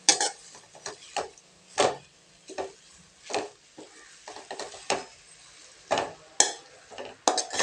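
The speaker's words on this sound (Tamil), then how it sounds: "இந்த எண்ணெயிலே அப்படியே ஒரு வதக்கி எடுத்துக்கலாங்க" Ingredients sautéing in oil in a pan for a kelvaragu and groundnut dish, with repeated scraping stirs over a soft sizzle and no talk.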